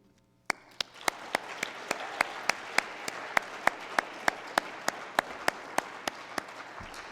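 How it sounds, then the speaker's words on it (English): Audience applause at a school ceremony, beginning abruptly after a brief quiet moment and continuing as a steady crowd clapping bed, with one near, loud clapper beating a regular rhythm above it, in a reverberant hall. "I would like to request a round of applause in order to recognize their hard work and dedication here at the Institute."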